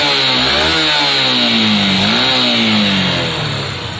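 A Lexmoto motorcycle engine runs close by, a loud, buzzing idle whose pitch swells and dips with small throttle changes before easing slightly toward the end.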